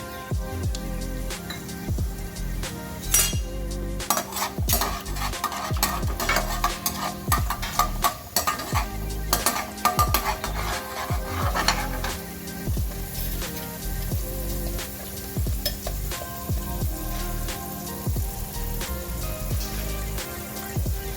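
Urad dal and chana dal fry in hot oil with cumin for a North Karnataka Betageri chutney, giving a steady crackling sizzle with frequent scraping stirs of a spoon in the pan, close and continuous, with no talking.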